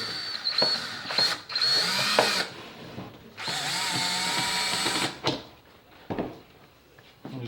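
A power drill drives screws into a wooden soap mold in several bursts, some long, some short, with clicks and handling noises between runs.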